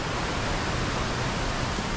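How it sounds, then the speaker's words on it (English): A small waterfall runoff spills along a cold creek, a steady, even rush of falling water that fills the space without pause or variation. "Some pretty cool little waterfalls and whatnot."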